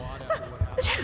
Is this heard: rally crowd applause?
no